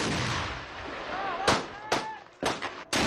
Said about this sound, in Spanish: disparo de un cañón antitanque sin retroceso